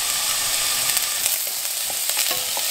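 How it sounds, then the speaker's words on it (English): Onions sizzle and fry in hot oil in a pot, producing a loud, close, continuous hiss with occasional crackles and stirring scrapes. "In the pot right here, I've just got oil, and I'm just gonna add in my onions right now."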